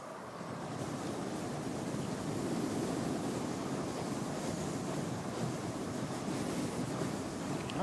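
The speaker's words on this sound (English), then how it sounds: "Not sure about this wind, eh?" Steady, loud wind roars across an outdoor microphone at Christchurch Airport, a dense broadband rush with gusty swells and no breaks for the full length.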